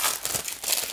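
Plastic wrap tearing and crinkling off a Blu-ray case, a brief close rustle of thin crackly film with uneven bursts and no voices.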